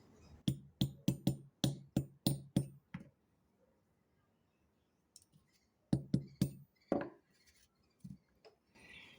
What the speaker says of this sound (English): you just want to hammer the ends closed